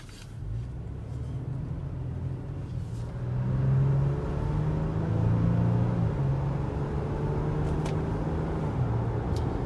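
A 2020 Toyota Tacoma TRD Sport pickup with a six-speed automatic, heard from inside while driving, giving a steady low engine hum and road rumble that swells slightly as it speeds up.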